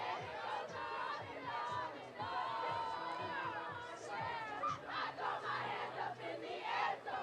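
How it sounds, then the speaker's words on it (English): Mariner student section packed in the south-end bleachers at a Friday night high school football game, roaring and chanting together in loud, dense waves of massed young voices that rise and fall throughout. "Mariner cheering crowd for the student section at the south end of the bleachers."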